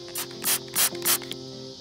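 Spray bottle misting garden plants, four quick hissing bursts in a row, close and clear, with a steady low hum behind.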